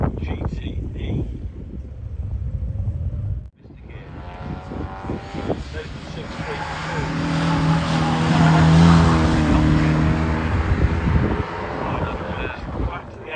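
A GTE race car passes at a Harewood hillclimb, its engine rising into a loud passing roar mid-clip amid wind buffeting, with a commentator talking over it.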